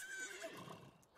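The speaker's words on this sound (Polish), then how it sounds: "Dziki koń!" A wild horse in The Sims 3 gives a single shrill whinny that wavers and then fades, close and alone with no talking.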